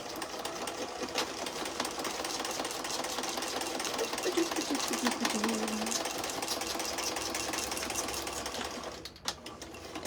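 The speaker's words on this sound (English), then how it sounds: "You can see that I'm sewing." A sewing machine runs a steady straight stitch through a recycled feed sack market bag, a continuous rapid mechanical whir with a brief pause near the end.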